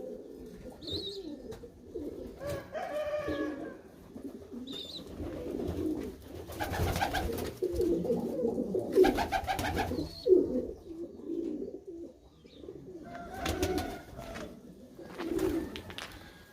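Several pigeons coo softly and repeatedly, their low throaty calls overlapping, with a few faint chirps in the background.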